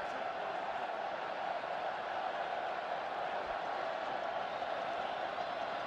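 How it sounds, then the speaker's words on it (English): A rugby stadium crowd at a France v Wales match in 2013, on a cold evening in Paris, makes a steady, distant murmuring roar that carries on without a break. "So the crowd on a very cold Parisian evening trying to get themselves involved in this match."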